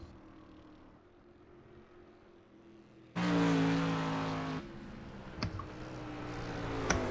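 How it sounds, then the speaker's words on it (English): A Chevrolet-powered Spike Chassis sprint car, number 83, on a qualifying lap at Five Flags Speedway: a distant engine hum suddenly swells into a loud, close, buzzing roar as it passes, then fades to a steady drone. "Dan Holmes drives that Schmidt Beer Chevrolet Spike Chassis number 83 as he looks to improve his second lap"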